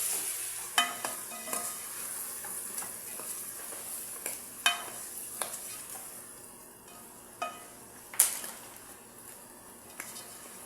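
A spice mixture is stirred into chicken in a pot for Adeni zurbian, giving quiet scraping stirs with a few sharp clicks of utensil on metal spread across the clip, over a soft frying hiss.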